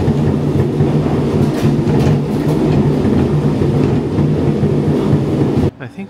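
A tram car descending inside the Gateway Arch in St. Louis rumbles and clatters along its track, loud and close, with a steady rolling roar that cuts off abruptly near the end.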